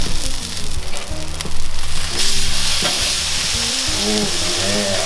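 Marinated salmon glazed with brown sugar sizzles loudly on a barbecue grill as it is flipped, a steady close frying crackle with clanking metallic scrapes of the utensil layered over it.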